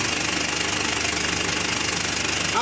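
Mitsubishi L300 Euro4 van engine running steadily with a dense, continuous mechanical drone and a faint knocking rattle from the faulty transmission, close and unbroken throughout.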